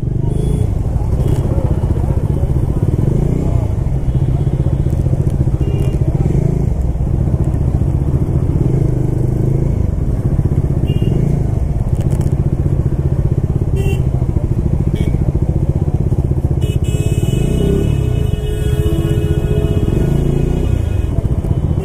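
Motorbike riding on the road on a trip from Bankura to Puri, a steady loud engine rumble with wind noise running throughout, with a rider talking over it at points.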